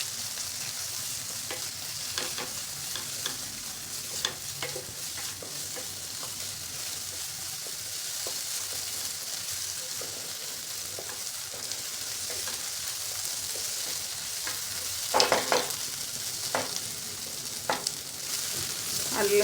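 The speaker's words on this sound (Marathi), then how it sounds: "हे आलं लसूण पेस्ट 1 चमचा परतून घ्यायची आपल्याला." Ginger garlic paste sautéing in a pan for chholé, a steady bright sizzle and hiss with occasional scraping stir strokes and a louder burst of stirring near the end, no voices.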